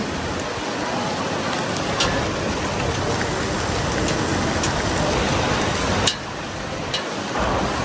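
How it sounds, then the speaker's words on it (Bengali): Heavy rain pours steadily on a cloudy day, a dense, loud wash of patter close by with scattered sharp drips on surfaces. It continues unbroken, with a brief dip near the end. "আকাশটা কেমন মেঘলা মেঘলা এখন পুরোই বৃষ্টি হচ্ছে"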